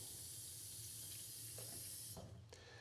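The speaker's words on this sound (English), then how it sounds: "See, I'm filling it with water like this." Tap water runs steadily into a bottle being filled for mixing protein powder, a soft continuous hiss and splash that ends with a couple of brief clatters near the close.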